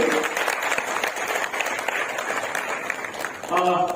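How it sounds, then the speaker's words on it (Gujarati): Dense, steady applause from a crowd of traders and shopkeepers at a product training event in Botad fills the whole stretch, with a voice breaking in loudly near the end. "એકવાર જોરદાર તાળી વેપારી ભાઈઓ"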